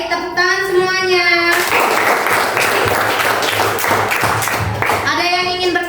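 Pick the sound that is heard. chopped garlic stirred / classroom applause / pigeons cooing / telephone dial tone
classroom applause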